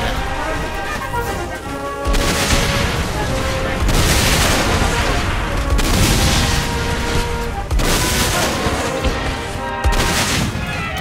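Repeated heavy explosions and bursts of gunfire in the action video game Saints Row 4, loud and continuous with sharp crashes every couple of seconds, game music and effects layered underneath.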